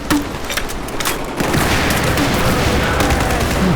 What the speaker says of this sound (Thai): ยิงสุดหมดอีก